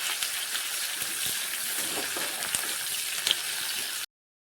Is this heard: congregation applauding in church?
no